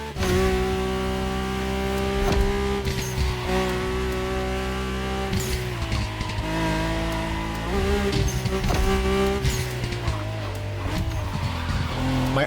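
A Mercedes-AMG One hypercar driven in The Crew Motorfest racing game: a loud, steady engine drone that rises and falls in pitch through gear changes, with tire squeal over the top.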